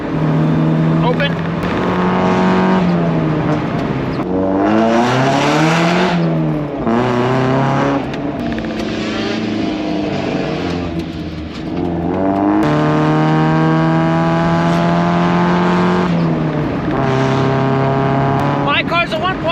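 A 1.8-litre Mazda Miata with a valve-controlled exhaust accelerating hard through several gears, its loud engine note rising, falling at shifts and rising again over about twenty seconds, with a person talking over the engine.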